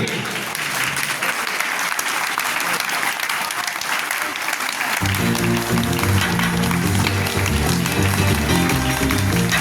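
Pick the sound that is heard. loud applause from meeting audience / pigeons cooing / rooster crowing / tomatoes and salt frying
loud applause from meeting audience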